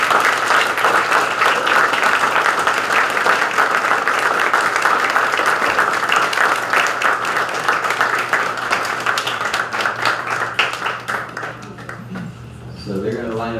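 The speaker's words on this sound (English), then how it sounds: "Let's give them a round of applause." A crowd at a school board meeting applauds two coaches with sustained clapping and a few whoops, steady for about ten seconds before tapering off, with chatter beneath it.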